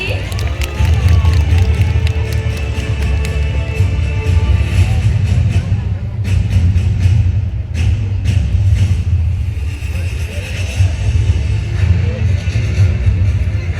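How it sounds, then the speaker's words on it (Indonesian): Audience at a bird show in Taman Safari Bogor clapping and cheering, a loud, dense crowd with shouting children and a heavy low rumble throughout. "boleh dong kasih semangat tepuk tangannya lagi"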